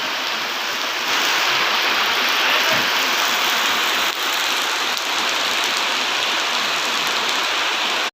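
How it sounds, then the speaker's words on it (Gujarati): Heavy rain pours at the Khodiyar Maa temple at Sugala as a dense, loud, continuous roar of water that holds steady throughout. "જવો મિત્રો અહીંયા વરસાદ કેટલો પડે છે ખોડિયારમાના મંદિરે"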